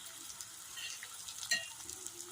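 Three beaten eggs poured over onions in a hot pan, a faint, steady frying crackle with a brief sharper splash midway and no speech.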